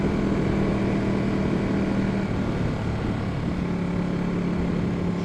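A Ducati 1199 Panigale motorcycle engine droning steadily while riding, a constant tonal hum with a slight pitch shift midway, heard alone without talk.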